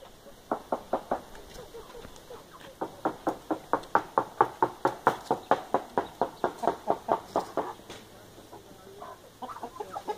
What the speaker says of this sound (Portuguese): Esses galos são de briga, né?